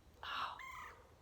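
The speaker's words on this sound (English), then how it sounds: "That's that little woodpecker calling." A small woodpecker gives a single short call in the woods, fairly faint against a quiet outdoor background.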